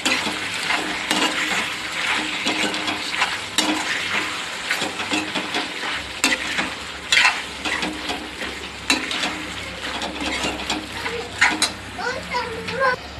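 Chicken liver frying in oil with mutton masala, stirred in a pan: a continuous close sizzle with repeated scraping and clattering strokes, and faint voices in the background.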